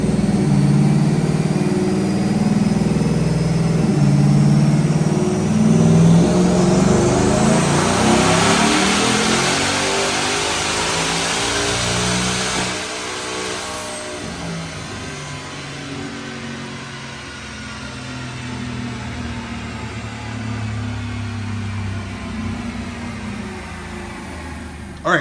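A 2021 Ford F-150 with a Hellion twin-turbo 5.0 Coyote V8 roars through a full dyno pull, climbing in pitch steadily, loud and close, before easing back down as the run ends.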